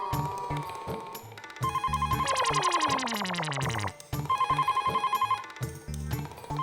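A phone rings with a warbling electronic ringtone, repeating in bursts with brief pauses, heard over faint background noise.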